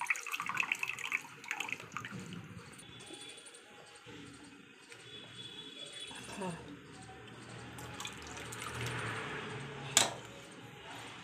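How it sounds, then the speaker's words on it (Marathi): Water is poured into a pot of tempered sweet-and-sour sambar made with jaggery and kokum, a faint splashing trickle under a voice, ending with a brief metallic clink. "तुम्हाला हवे तेवढे यामध्ये पाणी टाकायचे आहे"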